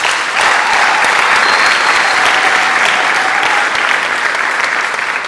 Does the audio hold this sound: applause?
yes